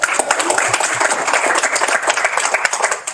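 Applause from an audience at a Guam Earth Day 2025 proclamation signing with the Governor and legislators, dense continuous clapping sustained for about three seconds at steady loudness, with voices mixed in.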